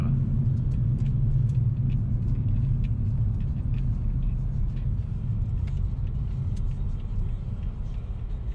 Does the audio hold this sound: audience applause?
no